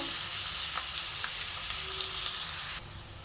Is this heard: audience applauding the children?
no